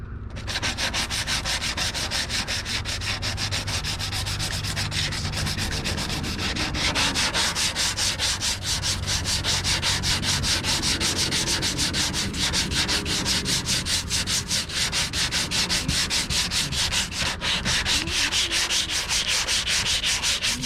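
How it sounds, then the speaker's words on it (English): Continuous rhythmic sanding on the body of a 2001 Ford Focus being prepared for repainting, a loud, close, steady rasp of back-and-forth strokes lasting throughout. "we're going to keep sanding until that either dissipates or if we need another layer"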